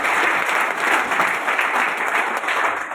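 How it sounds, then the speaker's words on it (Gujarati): An audience at a marketing business presentation bursts into warm, sustained applause for first-time guests, a dense wash of many hands clapping at steady loudness for the whole stretch with no voices. "ગેસ્ટ, મહેમાન, આ લોકો માટે જબરજસ્ત તાળી હોવી જોઈએ"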